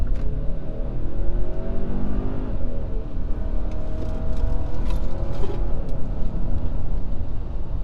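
A 2023 Hyundai Santa Cruz accelerating hard through traffic at night, with steady close engine drone and road and wind noise throughout, no talking.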